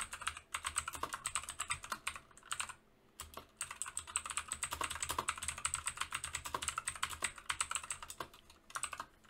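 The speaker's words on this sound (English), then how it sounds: "I'll just type it really quick." Quick, steady typing on a computer keyboard up close, with dense rapid clicks and one brief pause near the start.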